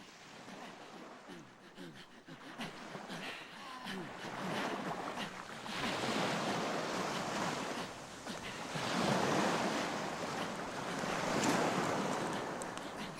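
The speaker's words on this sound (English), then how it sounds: "From Nicole's house on the beach, I can hear the waves lapping on the shore." Waves lapping on a beach shore at midnight, a steady wash of surf rising and falling in broad swells, with wind noise on the microphone and no talking.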